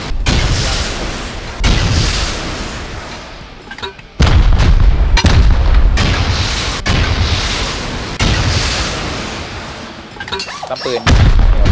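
Loud explosive charges detonate one after another during a base raid in the survival game Rust, heavy booms spaced a second or two apart, each decaying into rumble, with brief faint talk between blasts.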